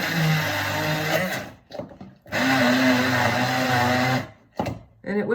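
A blender runs at high speed mixing a thick, mineral-rich breakfast spread, its loud motor whine cutting out briefly twice as the jar is paused and restarted.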